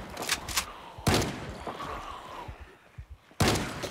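Trench shotgun firing in the Project Zomboid survival game, several loud sharp blasts spaced irregularly with a double shot near the start and one near the end, each a sudden broadband crack with brief decay.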